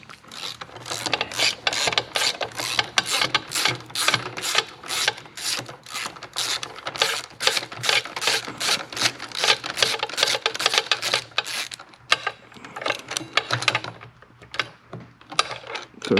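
A socket wrench ratchets steadily on the starter bolts of a Harley-Davidson during a transmission and primary repair, its rapid metallic clicking running close and nearly nonstop for about twelve seconds before easing into quieter clicks.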